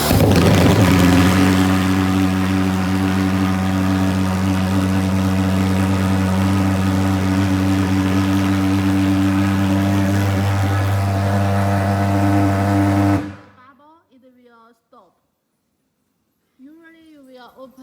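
A thermal fogger drone engine runs at a steady, loud, droning idle with strong even tones for about thirteen seconds, then cuts off abruptly, leaving quiet with brief sounds afterward.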